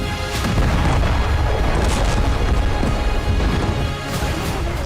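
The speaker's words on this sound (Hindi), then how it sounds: "जबरदस्त धमाके का ये वीडियो इजरायली मालवाहक जहाज का बताया जा रहा है, जिसे हूती ने समुद्र में बैलिस्टिक मिसाइल से उड़ा दी।" Loud, continuous blast of a cargo ship struck at sea by a ballistic missile, a dense low rumbling roar with crashing bursts that stays heavy for the whole stretch.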